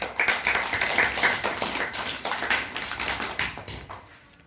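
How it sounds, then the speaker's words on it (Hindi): Children in a primary school class clap their hands together in a quick, rhythmic sequence of sharp, close claps that slows and fades toward the end. "ताली बजाओ"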